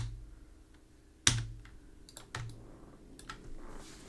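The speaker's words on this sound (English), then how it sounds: "Tap F on my keyboard." A single sharp click of a computer keyboard key being tapped, close and fairly loud, with a second fainter tap a second later and a few light clicks over a quiet room hum.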